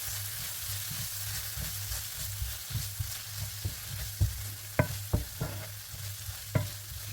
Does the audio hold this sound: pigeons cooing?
no